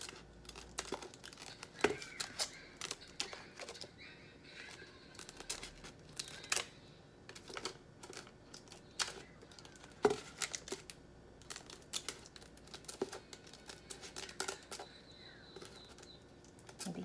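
Scissors snip through paper or vinyl for a custom cake board, making repeated crisp cuts up close with crinkling and rustling of the sheet between snips.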